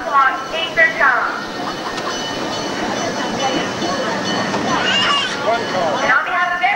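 Big South Fork Scenic Railway train running steadily with a continuous broad rumble, rail clatter and faint squeals, while a public-address voice talks over it throughout.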